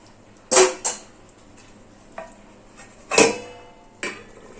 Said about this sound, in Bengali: এবার আমি ঢাকাটা খুলে দিচ্ছি।